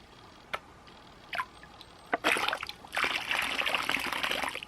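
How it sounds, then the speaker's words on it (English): Water and gold are poured from a gold pan: a few isolated drips and splashes come first, then a continuous close trickling pour fills the rest of the moment. "while I'm pouring this last little bit of gold"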